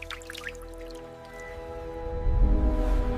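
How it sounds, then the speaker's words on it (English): Hydraulic fluid splashing inside a piston chamber of a deep-sea tunnel bridge construction machine, heard as wet dripping and squishing over a steady mechanical hum that swells into a heavier liquid surge near the end. "Hydraulics firing smoothly inside the chamber. Internal fluid splashing."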